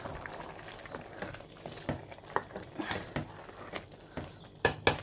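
Rice simmering gently in a covered pot over a low gas flame, heard as soft bubbling and scattered pops and ticks at a quiet level, with no talking.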